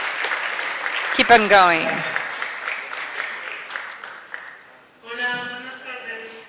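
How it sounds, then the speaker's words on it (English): An audience at a regional housing forum gives a round of applause for a panel, a soft, fading patter of clapping in a large room under a presenter's voice. "A round of applause."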